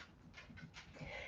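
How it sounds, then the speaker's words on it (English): A dog named Oscar pants softly in bursts of quick breaths close by, indoors during a home yoga class, with faint low movement noise underneath. "Here comes the dog again."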